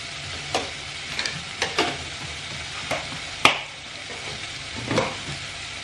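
Spices sizzle in hot oil in a pan, a faint, steady frying hiss broken by scattered sharp crackles and the occasional scrape of stirring.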